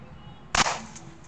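One sharp AK rifle shot cracks in a building-destruction video game, a single loud burst with a short ringing tail over a quiet background.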